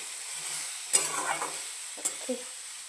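Soft, low sizzle of okra cooking in a pan with a few brief scraping stirs, quiet and close, with no talking.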